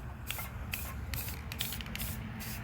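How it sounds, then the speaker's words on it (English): A Rust-Oleum spray paint can hisses in several short bursts onto a pumpkin, steady pressurized jets separated by brief pauses, close up and alone. "it covers a large amount of area when you're spraying"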